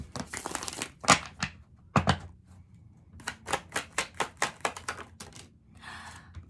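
A quick burst of papery riffling and snapping as a deck of tarot cards is shuffled, then a run of evenly spaced flicks, close and fairly loud, with no voices.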